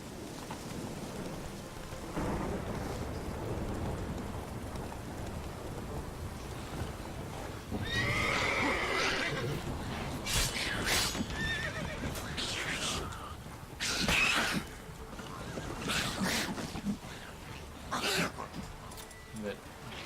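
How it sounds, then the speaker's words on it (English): A horse neighs within The Witcher 3's soundscape, whinnies rising over steady rain and rumbling thunder, with scattered bright bursts and a voice talking over parts of it. "Caballo."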